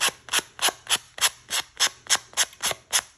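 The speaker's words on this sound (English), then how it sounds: "I do use a sanding block to take off instead of cutting" Rhythmic rubbing of a sanding block across a paper napkin, about eleven even scratchy strokes in steady succession, close and fairly loud, with no talking.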